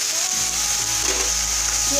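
Spring onion greens and soaked lentils sautéing in a pan for a spicy village-style bhaji, sizzling loudly and steadily up close, with faint stirring beneath.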